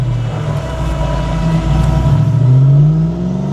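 A Toyota farm truck swapped with a 1UZ V8, fitted with headers, an X-pipe and a custom exhaust, accelerates hard in first gear; a loud, close engine roar climbs steadily in pitch, with no talking.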